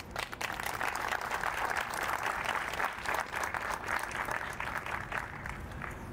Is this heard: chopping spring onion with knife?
no